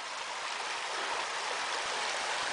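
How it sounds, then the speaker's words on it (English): Creek water flowing at a river crossing on a Red River Gorge hike, a steady close rushing babble that fills the clip evenly and alone, with no voices. "Crossing some type of river, creek thing."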